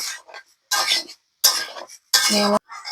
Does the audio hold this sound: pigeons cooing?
no